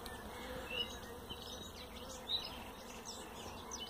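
Honeybees at a bee stand buzz in a steady, close swarm drone, with individual bees whining louder as they pass near.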